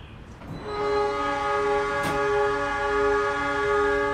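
Gumarang passenger train pulling out of Lamongan station, a long sustained horn with stacked harmonic tones sounding loud and steady over rumbling rail noise, with a sharp clank partway through.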